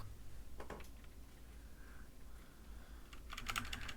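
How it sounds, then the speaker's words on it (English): Keys clatter on a computer keyboard in short bursts, a quick cluster early, a pause, then a denser flurry of taps near the end, close and fairly quiet with no talk. "I am not good at talking and typing at the same time."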